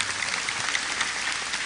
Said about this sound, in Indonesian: Tepuk tangan untuk teman-teman PMI Korea